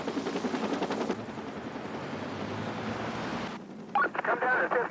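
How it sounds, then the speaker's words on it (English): A Denver police helicopter hovers over an arrest near a trailer park, its rotor giving a rapid, steady chopping throb under radio chatter and voices, with a burst of electronic tones near the end. "I immediately bring the helicopter to a hover to take pictures of the arrest."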